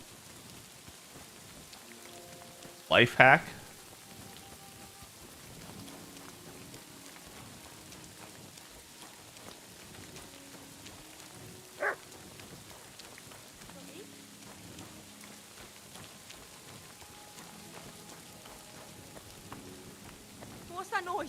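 Soft, steady rainfall in the video game Kingdom Come: Deliverance II, a faint constant patter throughout. A player briefly talks over it, and a couple of sharp louder sounds stand out.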